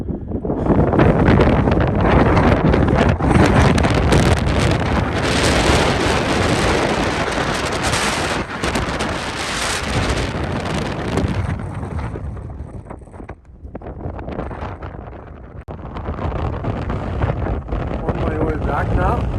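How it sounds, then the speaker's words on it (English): Strong blizzard wind on a mountain buffets the microphone, a loud, continuous roaring rush that eases slightly near the end. "it is freaking windy here, man. Very windy."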